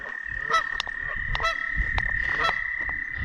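Geese at Whiterock Conservancy in Iowa give several short, nasal honks at moderate distance, spaced irregularly over a steady outdoor hum.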